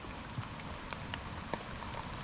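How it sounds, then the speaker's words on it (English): Rain patters steadily during a long-distance randonneur bike ride near the Finger Lakes, a soft, even hiss of drops with scattered faint taps on surfaces, fairly quiet and without voices. "rain's starting to pick up"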